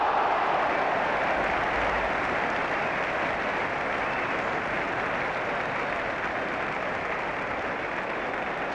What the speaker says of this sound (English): Tremendous applause